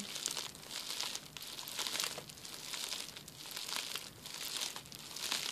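Steady crinkling and rustling of a plastic packing envelope, continuous and close, with brief louder crackly bursts.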